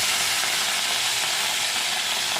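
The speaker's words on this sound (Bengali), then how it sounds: "তেলটা ভালো করে গরম করার পর মাছের পিসগুলো একটা একটা করে তেলের মধ্যে দিতে হবে" Pieces of katla fish hiss and sizzle in hot oil, a steady, dense frying crackle close to the pan with no voices.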